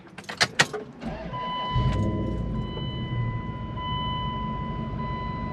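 A car engine idling quietly and steadily in the background after a few brief clicks and knocks, a low even hum with a faint high whine.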